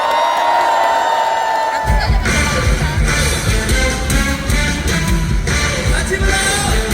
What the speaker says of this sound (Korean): 함성과 박수 그리고 같이 따라 불러주시면 대단히 감사드리겠습니다